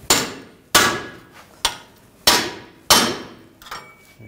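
Sharp metallic hammer blows driving a pickle fork to separate a ball joint from the steering knuckle on a 2009-2017 Volkswagen Tiguan, five loud, close, ringing strikes spaced unevenly about a second apart.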